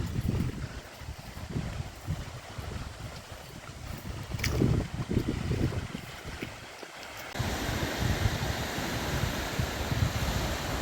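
Whitecapped waves on the Dnipro river in October wash and splash continuously under gusty wind noise, growing louder and more hissing toward the end.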